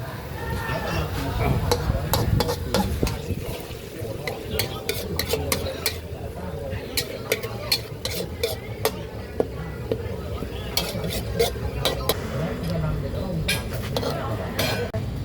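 Jungle curry with bitter gourd bubbling in a pot at a market stall while a spoon or ladle stirs and scrapes, with metallic clinks of utensils against the pan and people talking nearby throughout.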